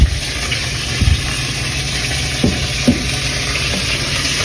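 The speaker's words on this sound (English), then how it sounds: "The chicken is almost finished frying." Steady crackling sizzle of chicken frying in hot oil, with a few soft clinks and taps from a utensil or pan.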